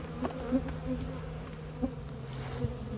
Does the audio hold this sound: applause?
no